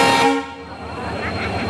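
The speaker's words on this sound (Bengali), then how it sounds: "এখানে ফাইনালি আমাদের ট্রেন ঢুকছে" Howrah–Puri Express pulling into a busy platform sounds a loud, close horn blast that fades after about half a second, leaving rumbling station noise and voices.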